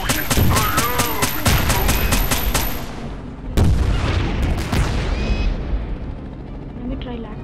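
Rapid gunfire and booming explosions from the Airship.C helicopter video game, a dense loud barrage with rhythmic shots early on and a fresh blast midway, with a voice talking over it.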